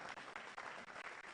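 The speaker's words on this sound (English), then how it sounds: "Please clap for my boss well." Audience applause at a digital journalism summit, a steady dense clapping that fills the whole moment with brief dips, fairly distant and moderately loud, with no one speaking over it.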